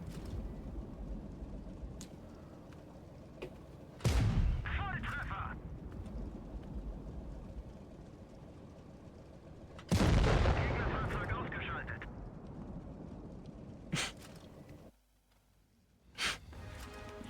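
Heavy tank cannon shots in World of Tanks, an Object 140 medium tank firing repeatedly; two loud booming blasts with long rumbling tails stand out, plus sharper shots, over constant engine and game noise.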